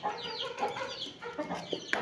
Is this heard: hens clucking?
yes